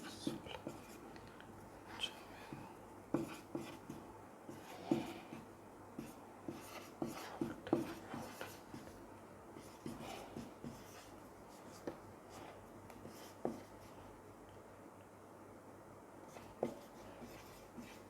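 Pen or pencil scratching out numbers by hand on paper, close and quiet, in short irregular strokes with pauses, while a person talks softly in Hindi over the writing.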